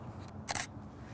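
One shutter release from a single-lens reflex camera set to 1/60 s, a short crisp double click up close against a quiet background.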